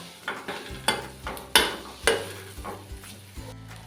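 Spices, peanut powder and grated coconut stirred in a pot for a traditional bottle gourd and peanut amti, with a series of distinct scraping strokes about every half second, fairly close, and no talk.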